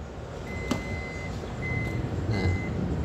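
A 2018 Toyota Voxy's power door closing, with a series of short, steady electronic warning beeps over a low hum of the vehicle's motor and surroundings, close by, with no voices.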